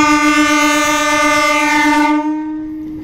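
Passenger train bound for Guntur sounding a loud, sustained multi-tone horn close by, which cuts off abruptly and leaves a fading rumble of the passing train.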